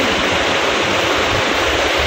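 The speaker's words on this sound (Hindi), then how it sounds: "देखो ये झरना, झरना झरना, देखो झरना" Waterfall beside a mountain road in Manali, a loud, close, continuous rushing roar of falling water with steady broadband hiss and no talking.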